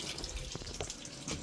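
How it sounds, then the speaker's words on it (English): Water runs from an RV sink faucet with low pressure, a steady close splashing stream into the basin, with a faint hum underneath and no voices. "You'll see that this is your sink right here. When I turn this on,"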